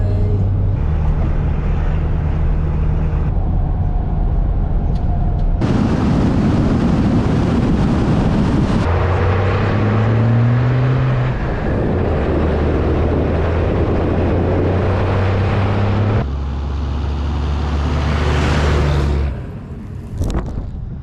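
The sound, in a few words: truck with camper and trailer driving on the road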